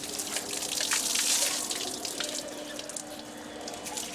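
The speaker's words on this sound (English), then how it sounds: "The pilgrims bathe and drink water drawn by the Brahmans." Water being drawn and poured at temple wells in southern India, a close, continuous splashing and pouring stream with a brief louder gush early on.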